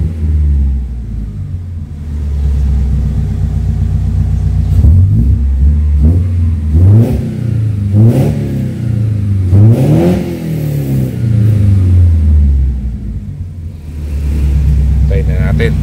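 A Mitsubishi Lancer engine revs repeatedly, rising and falling in several close, loud bursts over a steady idle rumble, with someone talking over it.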